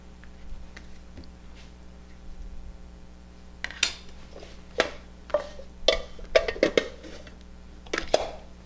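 A knife cutting the ends off root vegetables on a board, with a quiet start followed by a series of sharp, close chops and clicks, some in quick clusters, and no talking.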